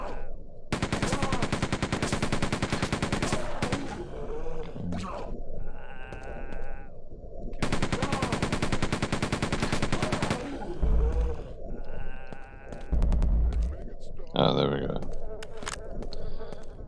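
Rapid automatic gunfire from a weapon in the video game Quake 2, set in a Strogg jail level, comes in two long, loud, dense volleys of several seconds each, with gaps of other game sounds between them.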